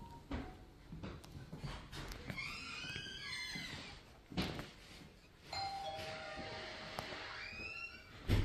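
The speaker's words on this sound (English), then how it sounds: "So we'll ring the doorbell again." A doorbell rings indoors during reactive-dog training at home, a bright sustained chime tone standing out over rustling room noise after an earlier burst of sweeping, squeal-like tones.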